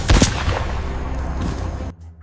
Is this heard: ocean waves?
no